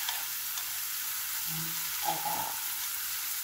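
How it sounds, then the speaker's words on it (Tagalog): Shrimp fry in a pan for ginisang pechay, giving a steady, loud, close sizzle throughout with a couple of brief low thuds from stirring. "lagay ko yung ating shrimp. Para i-ano lang natin siya, iluto lang natin ng kaunti"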